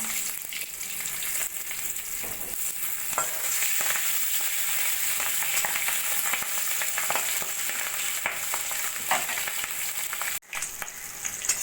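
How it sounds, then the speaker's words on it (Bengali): Tangra fish sizzling in hot oil in a wok after being flipped, a loud, continuous frying hiss with scattered crackles and stirring scrapes, with one brief dropout near the end. "মাছের একটা পিঠ ভালো করে ভেজে নিয়েছি এবার আমি উল্টে দেবো"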